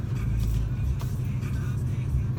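Steady low engine rumble and road drone from a truck being driven, filling the whole stretch at an even level, with a faint voice murmuring underneath.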